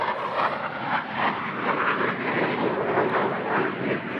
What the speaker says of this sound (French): Ah, il est tout près, là, l'avion.